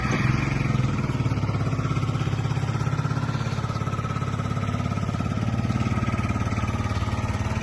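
A Yamaha Jog SA39 fuel-injected scooter engine idles close by with a steady, even putter and light mechanical clatter, unbroken for several seconds with no talking.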